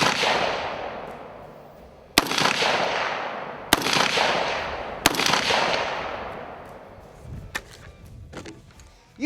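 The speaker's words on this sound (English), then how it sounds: "You know that sound because it's a 16-inch AR, right?" A 16-inch AR rifle fitted with an AAC Ranger suppressor fires sharp cracks, three loud shots spaced a second or two apart, each trailing off in a long echoing decay, followed by fainter clicks.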